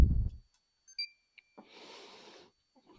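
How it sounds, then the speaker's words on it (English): An Xbox 360 console that has been reflowed gives short, faint electronic beeps on being plugged in, while the fan stays silent, with a few brief tones amid a quiet room and a soft burst of hiss. "As soon as I plug this in, it's beeping."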